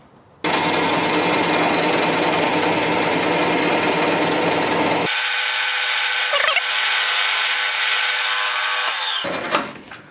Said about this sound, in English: we're going to start with the stubby drill to get the hole started in the right spot